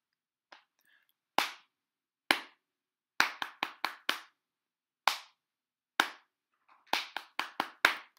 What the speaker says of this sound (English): Clap it with me.